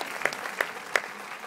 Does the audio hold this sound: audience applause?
yes